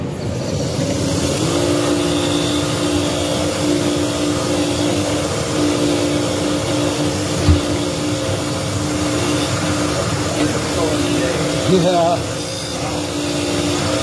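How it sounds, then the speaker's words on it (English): Media blasting cleans 331 Hemi engine pistons, giving a continuous loud hissing roar with a motor-like drone underneath that holds steady throughout, with a brief knock partway through and no speech. "in this video we're going to lightly blast these pistons"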